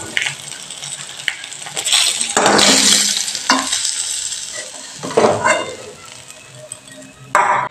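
Sardines in hot oil crackle and sizzle as a metal utensil stirs and lifts them out, with sharp clinks against the pan over a bubbling hiss that swells and fades, close up.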